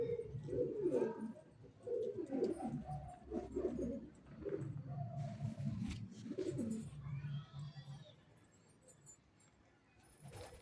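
Pet pigeons coo in repeated low, throaty phrases while drinking water, close by and fairly loud, with light clinks and shuffling noises underneath.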